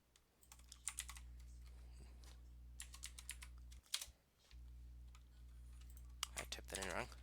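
Rapid clicks from a computer keyboard as a short web link is typed, coming in quick bursts separated by brief pauses, with a steady low electrical hum underneath.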